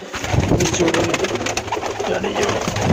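Pigeons coo steadily in a breeding setup with nesting pairs and young birds, a continuous layered murmur of low throaty calls close by, with no talk over it.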